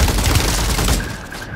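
Kastov 762 assault rifle firing in Warzone 3, a loud continuous burst of automatic fire for about a second that then stops and fades into a softer ringing tail.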